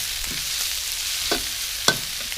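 Garlic stir-fried in a pan for Isan-style fried rice with fiery chili paste, a steady hiss of sizzling oil with a few soft scraping strokes of the spatula, no voices.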